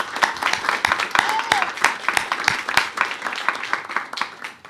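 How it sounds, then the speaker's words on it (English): An audience at a SHAC meeting breaks into a big round of applause: dense, steady clapping from many hands, close and lively, with a few voices mixed in. "give them a big round of applause"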